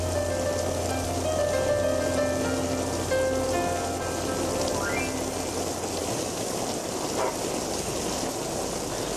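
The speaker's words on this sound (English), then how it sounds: "Tonight Live has been rained out" Steady heavy rain pours down on an outdoor television studio set for a live night-time talk show, a dense continuous hiss with faint tonal hum and a few brief electronic chirps underneath.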